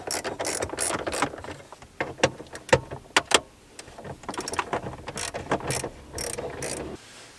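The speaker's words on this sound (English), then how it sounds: "So it looks like we got a couple of 10mm bolts in here now to get rid of." A ratchet works loose 10mm bolts from the dash of a second-generation Toyota Tacoma, with rapid close clicking in repeated bursts, sharp louder clacks between and brief pauses, and no voices.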